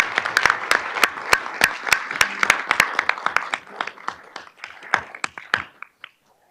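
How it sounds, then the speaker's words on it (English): Applause from a city council meeting audience during a priority-setting session, a dense run of sharp individual claps that gradually thins out and stops after about six seconds, heard indoors at close range. "let's give them a round of applause"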